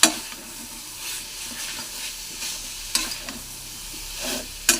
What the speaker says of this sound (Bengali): পনিরগুলো দিয়ে আবার একটু নাড়াচাড়া করে